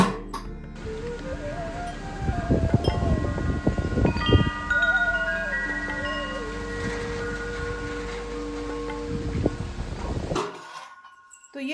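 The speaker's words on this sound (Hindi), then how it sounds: "मैं भी घंटियां थोड़ी बजा दूं।" Small bells ring in a village home kitchen where greens are cooking, several bright, clustered clinks and sustained tones over a steady background before fading out.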